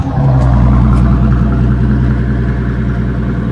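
A Maybach Exelero concept car engine runs loud and steady, a deep continuous rumble with a slight rise early on, close by and with no talking.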